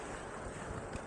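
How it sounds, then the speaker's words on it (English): Steady, rumbling headwind buffeting the microphone while riding an Engwe LE20 electric cargo bike at about 15 mph, a continuous broadband roar with no other sounds. "The wind is blowing in head on straight into me."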